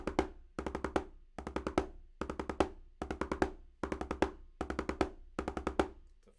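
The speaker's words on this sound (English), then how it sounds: "a 5-stroke roll is going to sound like this." Several 5-stroke rolls on a drum played in a row, each a quick cluster of five strokes ending on an accent, repeated steadily about every three-quarters of a second, close and clear with no talking.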